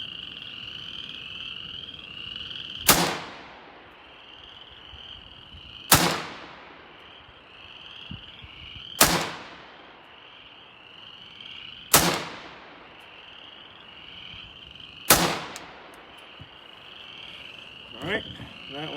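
Five suppressed 5.56 rifle shots from a Hodge 12.5 barrel fitted with a Surefire mini can, firing PMC X-Tac 55 grain ammo, spaced about three seconds apart, each a sharp loud crack with a quick decaying tail over a steady chirping frog background.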